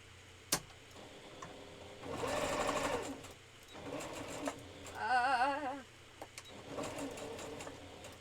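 Bursts of a sewing machine stitching belts for fursuit tails in short runs with pauses between, plus a sharp click at the start; fairly faint and close.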